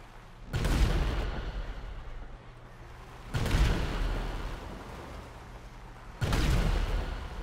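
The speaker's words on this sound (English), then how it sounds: "All right, let's try this cannon out now." Three heavy booms from a tank cannon in GTA 5, each a loud, deep blast with a long rumbling tail, spaced a few seconds apart with no talk.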